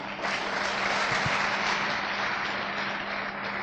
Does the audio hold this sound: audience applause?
yes